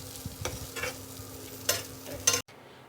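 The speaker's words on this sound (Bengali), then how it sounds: "একটু নেড়ে চেড়ে নামিয়ে নিলেই রেডি আমাদের ম্যাগি" Maggi noodles being stirred in a pan, a few soft scraping strokes and light clatters over a faint sizzle, close and brief, ending abruptly.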